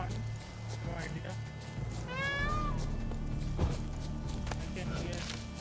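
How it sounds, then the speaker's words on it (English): A cat meows in a game world, a clear rising and falling call near the middle over steady low game ambience and music, with a soft thud after it. "I can hear cat."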